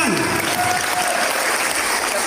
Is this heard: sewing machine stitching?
no